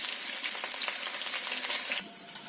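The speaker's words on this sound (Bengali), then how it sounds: "আলুগুলোকে লাল লাল করে ভেজে নিতে হবে" Potatoes frying in hot mustard oil in a pan make a loud, continuous crackling sizzle that drops slightly in level near the end.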